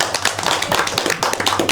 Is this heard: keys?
no